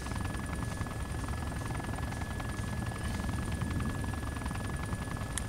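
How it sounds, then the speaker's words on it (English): A Chinook helicopter in a military video game gives a constant loud rotor roar and whine, an unbroken close drone with a steady high tone running through it and no talking. "That Chinook is not taking off."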